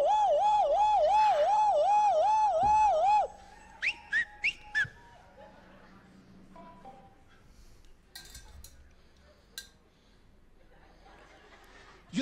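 A voice mimics a car alarm with a rapid warbling whistle for about three seconds, followed by a few short chirps, then quiet clinks and scattered noises.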